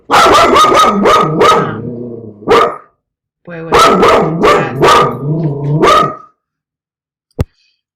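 Two dogs bark loudly and nearby in rapid bursts, with a short pause between volleys and a final single yip, as a delivery arrives at the door; a voice briefly speaks.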